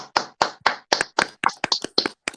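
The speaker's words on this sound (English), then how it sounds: "Let's clap." Hands clap during a morning show, about ten sharp claps in a steady rhythm, loud and close with no talk over them.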